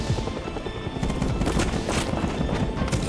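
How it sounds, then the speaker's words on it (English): Gunfire in a Rust battle against an attack helicopter, a steady dense crackle of shots running throughout over loud low rumble, with sharper bursts clustering toward the middle and end. "Still shooting."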